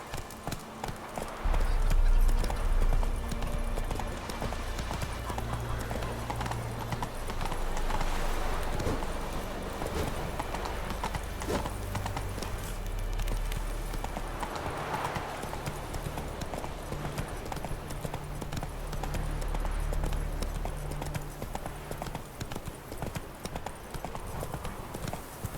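Horse galloping in the video game The Witcher 3, continuous rhythmic hoofbeats throughout with brief low thuds over game ambience.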